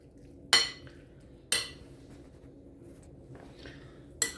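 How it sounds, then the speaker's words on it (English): Beef marinade with white pepper swished with a spoon in a bowl, giving three sharp clinks of spoon against dish amid quiet, faint scraping between them. "Swish it with a spoon, make sure everything's all coated well."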